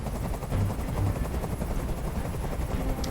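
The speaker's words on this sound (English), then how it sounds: "I can't stand that noise You don't have a mute button? Tell that helicopter" A helicopter in the video game Detroit: Become Human thrums loudly and continuously with a steady rotor chop, filling the whole stretch with no talking.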